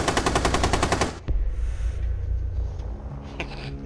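A light machine gun fires a rapid burst of evenly spaced shots in the shooter game Rainbow Six Siege, then stops abruptly, followed by low ambient rumble and a single faint distant bang.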